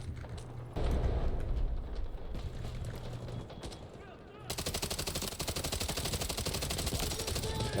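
Rapid automatic fire from an AK-12 rifle in the shooter game Delta Force, sustained rattling bursts that grow denser and louder toward the end, with a speaking voice underneath.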